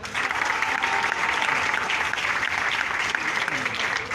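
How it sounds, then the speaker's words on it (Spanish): Applause from an audience fills the air at a Partido Verde presentation of candidates for local and federal deputies, a dense, continuous clapping that stays loud and even for its whole length. "Este aplauso es para todos ustedes"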